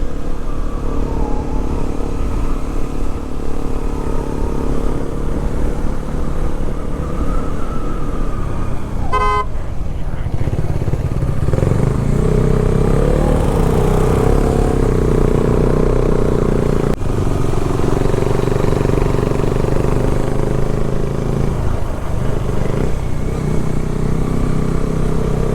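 A KTM Adventure 390 motorcycle riding a misty mountain road, its engine a continuous loud drone with wind rush throughout, a brief horn toot near the ninth second, and no talking.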